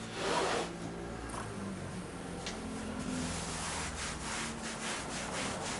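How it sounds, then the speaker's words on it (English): Upholstery fabric being rubbed and pulled taut over a chair frame during re-covering: soft, dry brushing and scraping strokes, fairly quiet and close, in an otherwise calm room. "A rub and a pull."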